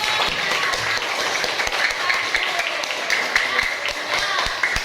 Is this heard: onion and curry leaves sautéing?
no